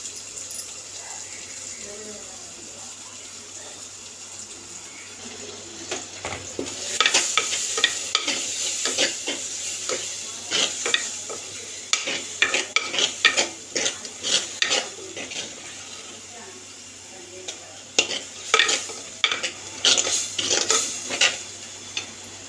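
A ground paste of coconut, tomato and cumin is sautéed and stirred in a pan for fish curry. A soft hiss comes first, then busy spoon scrapes and clinks rattle over a steady sizzle, close and fairly loud.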